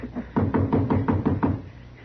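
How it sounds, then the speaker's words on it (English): Knocking on a locked door in an old Western radio drama, about seven firm, evenly spaced knocks in quick succession, close and loud, with no voices over them. "Go ahead and knock."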